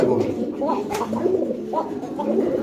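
Soft pigeons cooing in low, throaty murmurs over a steady background hum at a pigeon sale, several birds overlapping at close range.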